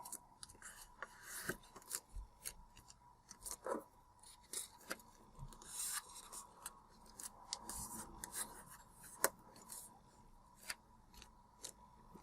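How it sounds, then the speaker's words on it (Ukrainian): Paper folded for an origami water bomb, soft close creasing, rubbing and rustling strokes with sharp little crackles at irregular intervals, quiet and without talking. "Загинаємо листки вверх по центральній лінії з обох сторін."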